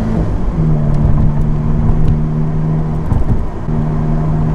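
Alfa Romeo 4C lightweight sports car cruising in its soft driving mode, a steady engine drone with a low sustained hum and road noise, continuous and close throughout.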